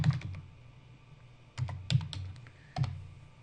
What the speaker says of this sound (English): all you need to do is type in your browser